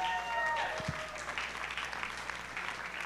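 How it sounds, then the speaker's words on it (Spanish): A church congregation claps in a dense, moderately loud patter for about three seconds, fading slightly toward the end, with a voice trailing off at the start. "Dale un aplauso a Dios."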